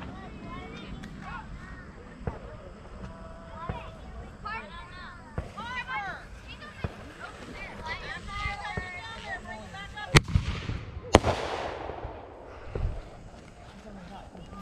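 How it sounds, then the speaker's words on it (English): Fourth of July fireworks go off with two sharp, loud bangs close together that follow scattered smaller pops, amid children shouting and adults talking outdoors. "Another firework time."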